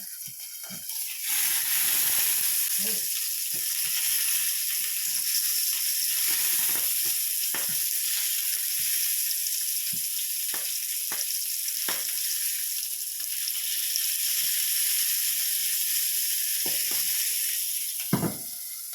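Food sizzles in a frying pan in a home kitchen, a loud steady hiss running throughout with scattered crackles and pops, no talking over it.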